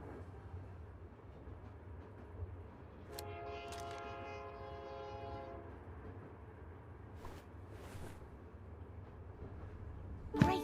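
A train rolls along in the Murder in the Alps video game, giving a low steady rumble with a brief horn blast midway and a few faint clicks and hisses, all fairly quiet.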